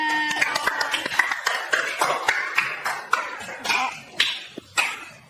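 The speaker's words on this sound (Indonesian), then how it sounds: "tepuk tangan untuk kelompok 2" An audience claps for group 2 at an Islamic religious education teaching assessment session, with scattered, uneven claps that thin out into a few separate smacks toward the end.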